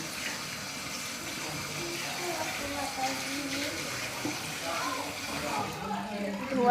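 Water poured over hair during a hair wash, a steady splashing stream running under nearby speech.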